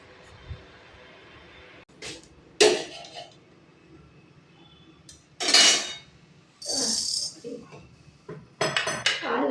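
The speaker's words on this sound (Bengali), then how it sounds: "চলো এবার এগুলোকে একটু ড্রাই রোস্ট করে নিই, যেগুলো ড্রাই রোস্ট করার" Metal pan and utensil clinks and scrapes from dry roasting spices for a spicy raw jackfruit pickle, coming in several separate bursts with quiet gaps between them.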